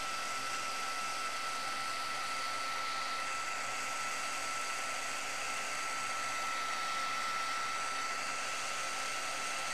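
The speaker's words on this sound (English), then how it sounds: "I'm going to heat up my heat tool and we'll melt the powder." A heat embossing tool blows hot air to melt embossing powder on black cardstock for a Halloween card. Its steady, loud whirring hiss runs unbroken from start to end with no talk.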